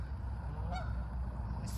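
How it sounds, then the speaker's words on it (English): Geese honking outdoors in nature, a single short nasal honk from a goose at moderate distance over a steady low outdoor rumble and ambient noise. "spending time in nature with the geese"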